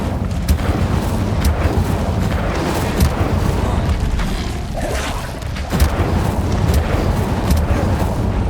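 An Incendio fire spell cast in the video game Hogwarts Legacy, giving sustained roaring bursts of flame amid booming game effects, loud and continuous with periodic sharp flares.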